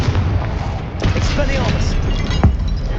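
A Confringo fire spell from the game Hogwarts Legacy goes off with booming blasts, a sharp impact near the start and another loud crack late in the clip, over a dense bed of game noise and battle effects.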